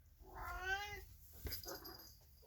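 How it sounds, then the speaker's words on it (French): A house cat meows one drawn-out time, then gives a shorter second call, both faint and heard alone against quiet room tone. "Désolé, c'est mon chat."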